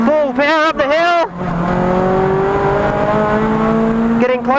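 Front-wheel-drive car driven at full power up a hill, engine droning steadily under acceleration between stretches of close, loud talking.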